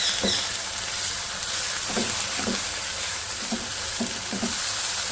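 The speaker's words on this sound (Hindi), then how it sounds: "इसको भूनते हैं, मज़ेदार अपना यमी यमी सा हलवा जो है" Poppy seed halwa roasts in a pan with a steady bright sizzle, while a spoon stirs it in soft, evenly spaced scraping strokes, close by and without any voices.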